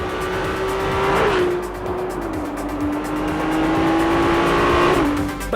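A turbocharged Ferrari 298 GTB sports car accelerates hard, its engine note climbing and then dropping at each quick gear change, loud and close with no talking.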